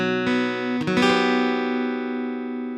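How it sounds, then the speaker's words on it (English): An out-of-tune acoustic guitar strummed once, then struck again about a second later, its chord ringing with sustained, slightly clashing tones that slowly fade. "It's a guitar that's out of tune."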